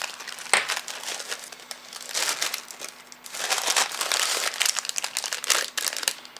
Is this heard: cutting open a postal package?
yes